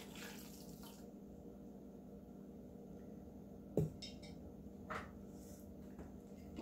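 Pumpkin cooking water poured into a blender, a quiet steady trickle with a few small clinks and splashes near the end.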